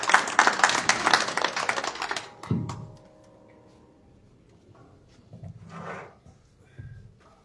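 Applause and clapping from a small audience at a book presentation, dense and lively for about two seconds before fading out, followed by quieter room sounds and a few soft scattered noises.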